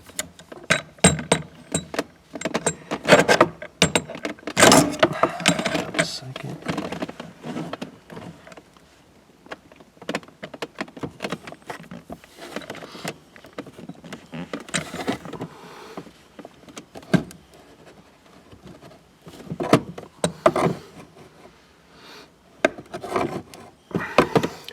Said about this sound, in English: I'm gonna pop this grommet in place as much as I can